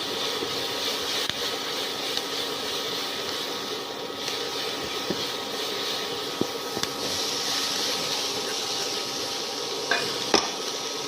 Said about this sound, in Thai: ผัดให้หอมกับพริกเนี่ยสุกเลยนะคะ